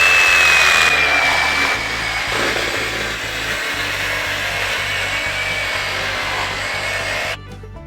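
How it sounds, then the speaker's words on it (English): A reciprocating saw cuts through metal during fence building on a homestead, making a loud, close, continuous buzzing rasp with a steady rapid stroke rhythm that cuts off abruptly near the end. "the reciprocating saw is cutting pretty damn fast."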